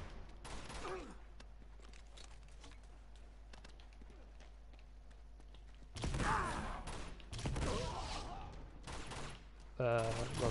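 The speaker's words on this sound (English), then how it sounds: "I'll just use the grenade launcher" In Uncharted 2: Among Thieves, a grenade launcher fires, and loud explosive blasts follow in heavy bursts over steady game ambience and scattered gunfire.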